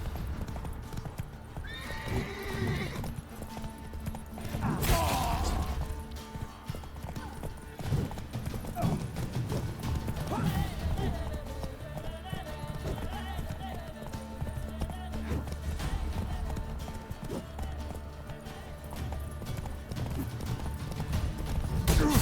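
Roach the horse trotting in The Witcher 3, steady hoof clip-clops with a whinny, set against a continuous game music and ambience bed.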